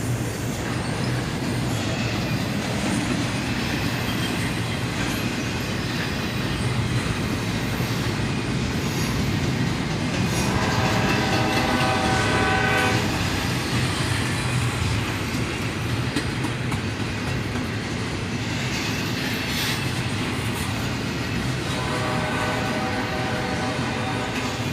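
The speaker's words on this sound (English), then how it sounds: "A big southbound intermodal train, led by an AC-44CW and a rather beat-up looking" Big southbound intermodal freight train led by an AC-44CW and an ES-40DC locomotive rolling past close by, continuous loud rumble and clickety-clack of wagons with wheel squeal, plus tonal bursts around the middle and later that may be the horn.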